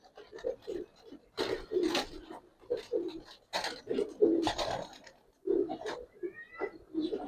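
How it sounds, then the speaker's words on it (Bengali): Giribaz pigeons, including a black-bellied bird, coo repeatedly in low rolling phrases at close range. Several overlapping calls continue steadily with no talking. "এই কবুতর ভাই কালপেট কবুতর অনেক ভালো"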